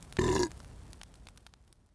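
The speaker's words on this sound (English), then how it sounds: "finishing with a large belch" A single loud, low belch lasting about a quarter second, followed by quieter background rustle.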